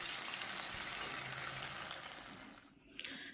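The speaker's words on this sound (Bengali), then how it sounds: "এখানে দুটো টমেটো দিয়েছি ওতে সুন্দর করে ভেজে নেব" Two tomatoes fry in a pan for dal, giving a steady loud sizzle that fades toward the end, with a brief clatter at the close.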